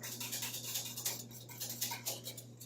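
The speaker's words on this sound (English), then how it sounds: "And you whisk it in like that." A whisk scrapes rhythmically around a pot of Jamaican cornmeal porridge over low heat, giving repeated soft swishing strokes close by under a steady low hum.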